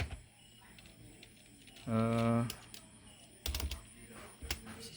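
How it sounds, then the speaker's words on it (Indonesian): Fingers tap a computer keyboard in short, faint bursts of clicks, with a hum in the background and a brief tonal beep partway through. "Saya sambil ngetik sambil megang HP tuh"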